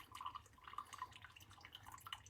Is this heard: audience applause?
no